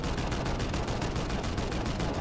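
Rapid, continuous gunfire from an ultimate ability in a video game, with a dense stream of evenly spaced shots at steady loudness over the whole stretch, no voices.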